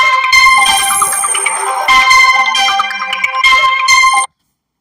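A mobile phone ringtone for an incoming call from mother, a loud bell-like melodic chime repeating in rhythmic phrases, then cutting off abruptly as the call is rejected.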